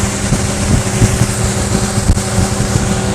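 A Sea Ray Sundancer 265 motorboat runs at speed just below full throttle, its engine a steady, loud drone mixed with rushing water and gusting wind noise, with no talking.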